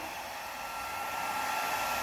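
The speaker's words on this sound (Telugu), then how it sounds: "ట్రిమ్మర్ కాదు, హెయిర్ డ్రయర్." A hair dryer blows steadily, a constant close whooshing hum with no pauses.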